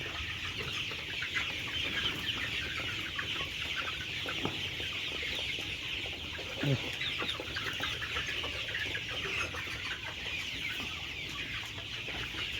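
Colored broiler chickens on a farm cluck and murmur continuously in a busy flock, with occasional sharper calls standing out over the steady background chatter.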